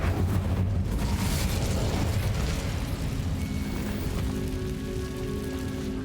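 An Incendio fire spell cast in Hogwarts Legacy: a loud, dense roaring rush of flame that crackles and sputters like heavy rain. It holds steady for several seconds and eases off slightly toward the end, with no voices.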